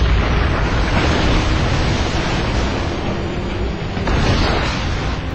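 Continuous dense roar of salvo weapon blasts from the interceptor vehicle in the SpyHunter: Nowhere to Run video game, loud, broadband and sustained for several seconds with overlapping booms.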